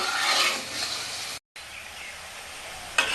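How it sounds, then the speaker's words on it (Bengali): Onions fry in oil as beresta for chicken biryani, giving a soft continuous sizzle and hiss heard close up, broken by one brief silent gap partway through. "আমার বেরেস্তা তখন ভাজা হচ্ছে"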